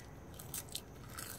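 Crunchy baked kale bitten and chewed up close, a few crisp crackling crunches in quick succession with no talking.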